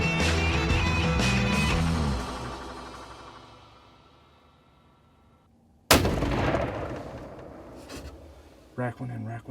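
A single sharp, loud rifle shot cracks out during a deer buck hunt, following a fading stretch of talk and leaving a brief echoing tail before voices resume.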